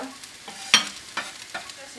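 Stirring pumpkin and mushrooms in a pan with a soft sizzle underneath, a few sharp scraping clicks of a utensil spaced through a short stretch, no talking.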